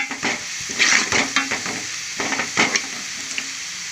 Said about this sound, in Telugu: కొద్దిగా వేగనిద్దాం జీడిపప్పు కూడా ఫ్రై అయింది కదా